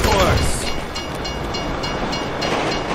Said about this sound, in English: you'd know the train comes by right now